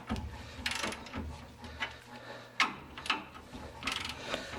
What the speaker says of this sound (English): Got the torque wrench set for 85, so we'll go ahead and get these torqued down.